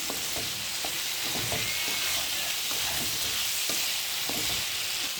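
Potato, eggplant and sponge gourd frying in a cooked-down spice paste in a pan, a loud continuous sizzle broken by rhythmic scraping stirs, with no talking.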